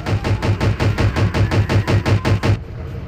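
Rapid automatic gunfire in an SCP video game, a loud burst of about fourteen evenly spaced shots that stops abruptly, leaving a faint background hum.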